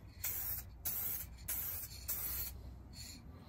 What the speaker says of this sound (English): So I'm going to use some spray varnish, gloss varnish, I've just purchased.